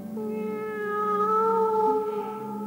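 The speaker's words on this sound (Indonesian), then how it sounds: "Ada kucing bagus sekali." A cat lets out one long, drawn-out meow, close and clear, rising slightly and then fading, with no talking.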